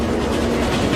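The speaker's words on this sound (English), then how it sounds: "When a train enters an underground platform, it pushes a rush of air ahead of it" A train rolls into an underground station platform with a dense, steady roar and rumble of wheels and rushing air that holds at an even, loud level throughout.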